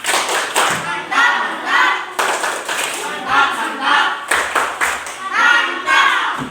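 A group of children doing the rhythmic "tepuk mantap" clap in a classroom, repeated patterned bursts of hand claps and thumps in short phrases, close and fairly loud with some voices between.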